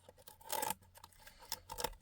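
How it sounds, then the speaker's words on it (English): Scissors cutting away old cloth from a book cover, two short bursts of crisp snipping and scraping close by at low volume, with quiet gaps between. "I'm going to first peel that away a little, and then I'm just going to take my scissors"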